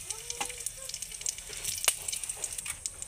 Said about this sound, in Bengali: তো তেলটা গরম হয়েছে, এর মধ্যে একটু গোটা জিরা দিয়ে দিচ্ছি।